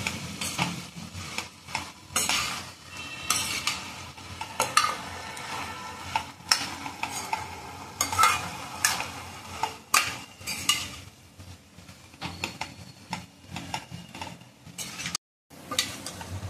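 Jaggery being stirred into cooked lentils (dal) in a pan for Holi puran poli, with a spoon scraping and clinking against the pot in uneven bursts and short pauses, close up and moderately loud, with no one talking.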